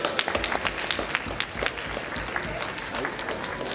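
Audience applause for a third-place winner at a Hot Wheels collectors' event, dense clapping with sharp individual claps throughout, steady and fairly close, with faint voices mixed in.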